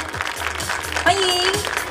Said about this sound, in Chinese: 我们是不是用热烈掌声欢迎市长为我们致辞